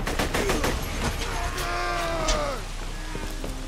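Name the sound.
assault rifle gunfire in the video game Borderlands 2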